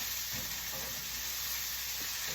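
Vegetables for shrimp egg foo young stir-frying in a hot pan, a steady close sizzle with faint scraping of stirring underneath.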